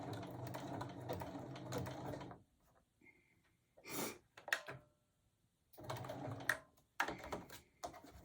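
A domestic sewing machine runs a blanket stitch on a small quilted mug rug, whirring in steady bursts from 0 to 2.4 s and again from 6 to 8.3 s, with short mechanical clicks and pauses between runs.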